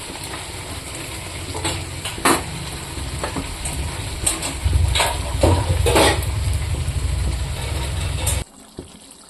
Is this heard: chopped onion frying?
yes